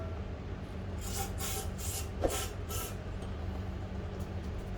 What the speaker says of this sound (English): Looks like it's spraying well in there.